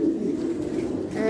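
A pigeon in a loft gives a low, soft cooing call, close and steady through a brief stretch, with faint room noise behind it.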